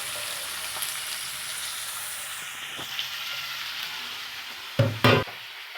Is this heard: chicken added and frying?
yes